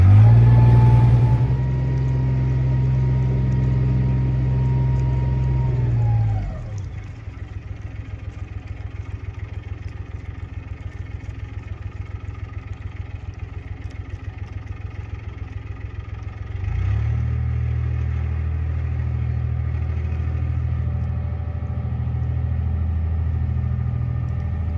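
Narrowboat diesel engine running while cruising along a canal, a steady low thudding throb that drops to a quieter idle-like chug midway before rising again to a fuller, louder beat.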